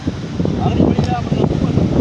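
Gusty wind rumbles and buffets the microphone outdoors while people talk underneath.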